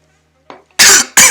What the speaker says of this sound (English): Hopefully coughing is gonna stop.